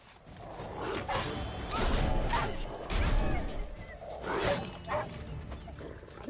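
Several dogs bark and snarl in a fight in The Witcher 3: Blood and Wine, with loud overlapping yelps, growls and combat clatter running through the whole stretch.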